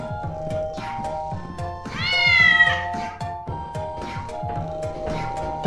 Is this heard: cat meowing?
yes